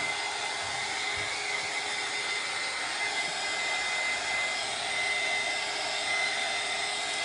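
A hair dryer blows steadily at close range to dry glass and resin artwork, an even, constant whooshing hiss with no pauses and no voices.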